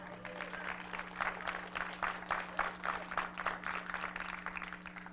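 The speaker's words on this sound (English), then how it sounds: "Give the Lord a hand clap and a shout." Church congregation claps and cheers during a worship service, a steady rhythmic wash of hand claps over a constant low organ or keyboard hum, moderately distant.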